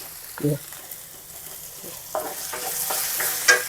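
Onion is added to hot oil where cumin has already crackled. After an early clink, a sizzle swells and carries on with light stirring scrapes, close and moderately loud.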